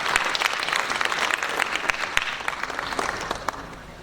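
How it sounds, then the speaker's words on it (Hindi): Sustained audience applause fills a literary award ceremony hall, dense and steady for four seconds with individual claps popping out of the mass, no voices over it. "एक बार इनके लिए हम जरूर चाहेंगे तालियां।"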